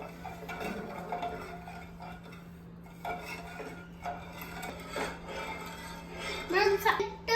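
Corn flour and sugar being mixed in a bowl for homemade vanilla ice cream, with light spoon clinks and scraping in steady, irregular taps, close and fairly quiet over a constant background hum.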